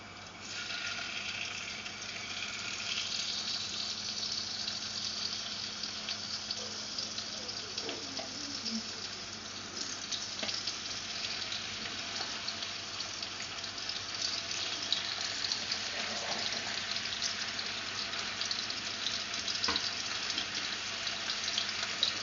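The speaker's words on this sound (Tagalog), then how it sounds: "Now the oil is hot, let's add the fish." Mackerel frying in hot oil on low heat, a steady, fairly quiet hiss of sizzling that runs on evenly, close by, with a few faint clinks partway through.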